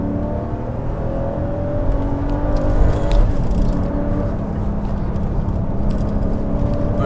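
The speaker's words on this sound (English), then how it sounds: "engine does need revs to get it moving" A Mercedes C43 AMG with an automatic gearbox pulls along a road, its engine held at steady high revs with a continuous loud drone and whir, no voices.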